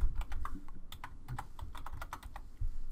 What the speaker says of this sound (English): We can just type our name